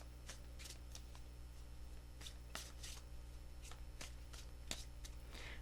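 A deck of tarot cards is shuffled by hand, giving a series of crisp riffling and slapping bursts at uneven intervals over a faint steady background hum.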